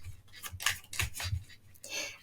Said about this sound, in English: Just shuffling the cards